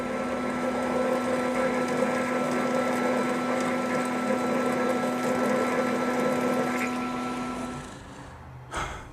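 Metal lathe cutting a thread in cold rolled steel, a steady close mechanical whir with a constant humming tone that runs down and fades near the end, followed by a brief knock.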